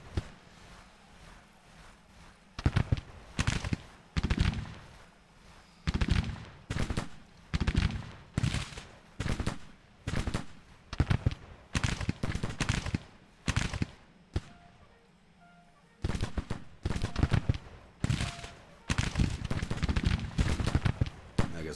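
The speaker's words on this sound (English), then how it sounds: "Decided to shoot it out with the sharpshooters, huh?" Musket volleys and rifle fire crackle through a Civil War battle in the strategy game Grand Tactician, with repeated loud bursts of overlapping shots coming in waves and short gaps between them.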